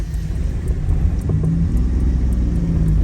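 Car driving on the CPEC highway toward Battagram in light rain, a steady low road rumble and engine drone heard from inside the cabin with no talk.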